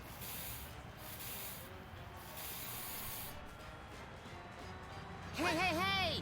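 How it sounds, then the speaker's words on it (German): Spray-can hiss of graffiti being painted in the Sam & Max adventure game, a steady broad hiss lasting several seconds before a bright chirpy voice or effect cuts in near the end. "Graffiti. Kann man jetzt selber hier sprühen?"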